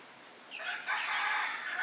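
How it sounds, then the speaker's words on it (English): A rooster crows once from a distance in a rural backyard near a flowing brook, a faint drawn-out call rising over quiet background ambience. "Rooster."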